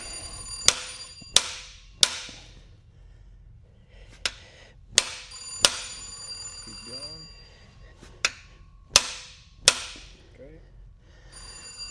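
A telephone bell rings in a workshop during a Cummins N14 engine overhaul, sounding in repeated clusters of short, sharp rings over quiet room noise, with a little faint talk between them.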